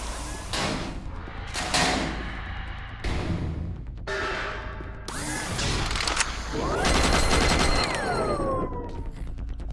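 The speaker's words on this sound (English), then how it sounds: "The official chain gun release." Rapid, loud chain gun fire in Doom 3 rattles out in dense overlapping bursts with heavy booming impacts, swelling louder toward the end of the stretch.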